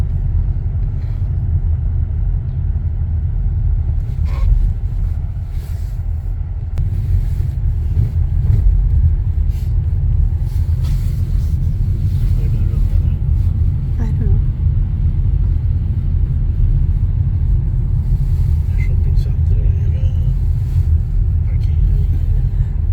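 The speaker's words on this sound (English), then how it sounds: "I guess this is traffic" Road traffic rumbles past in the town of Kiruna, a steady deep low-frequency drone of passing vehicles that persists loudly throughout, with a person talking over it at times.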